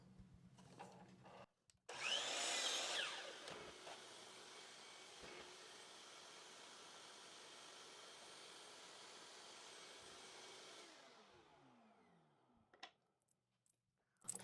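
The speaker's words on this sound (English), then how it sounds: "So now I will make an angle cut there at 15 degrees." A power saw runs a 15-degree angle cut through a leftover piece of wood, a loud, steady whining rasp lasting about ten seconds that fades as the blade winds down, with brief knocks before and after.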